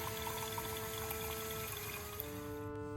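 Cold water pouring onto round rice in a bowl, a steady close liquid rush with a continuous tonal hum, lasting about three seconds without talk.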